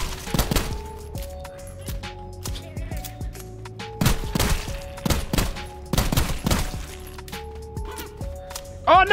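Gunfire from a weapon in a roguelike video game: rapid bursts of shots over tonal music and game effects, busy and continuous, with a bright chiming flourish at the end.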